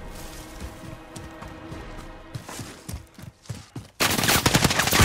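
Gunfire in Call of Duty Warzone: scattered shots and short bursts ring out at mid distance, then close, loud, rapid automatic fire takes over for the final second.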